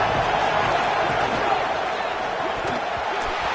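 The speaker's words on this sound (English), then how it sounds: "Crowd gets behind this defense." Football stadium crowd roaring in support of the defense on third down, a dense, steady wall of cheering and noise held at a constant loud level throughout, with no clear break.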